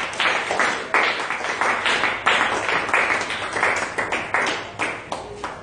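A church congregation clapping in acclamation, dense rhythmic hand claps in quick repeated bursts, loud and close, with no talk.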